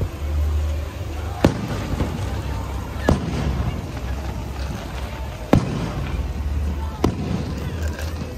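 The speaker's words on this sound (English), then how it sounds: "Do you do fireworks every night?" Several sharp bangs of fireworks burst at irregular intervals at Epcot, about four distinct pops over a steady low rumble, with faint voices in the background.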